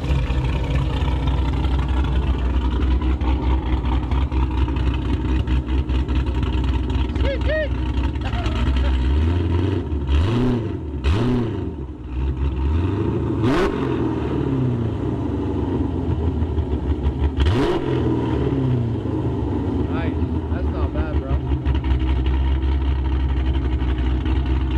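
A second-generation Chrysler 300 with upgraded heads and cam idles with a deep lope, then gets several sharp throttle blips that surge loudly and fall back to idle, close by, with people talking over it.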